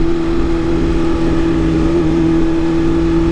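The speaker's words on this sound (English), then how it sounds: "And there's a lot of traffic." Steady road and wind roar heard while riding a motorcycle through heavy traffic on a hot day, loud and continuous, with a constant engine drone underneath and no talk.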